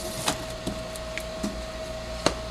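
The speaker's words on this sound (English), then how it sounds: "You can then just continuously keep feeding more envelopes as the machine runs." A Xante Impressia printer runs steadily while #10 envelopes feed through its Enterprise feeder, a constant mechanical hum with a steady tone and several sharp, sparse clacks as envelopes pass.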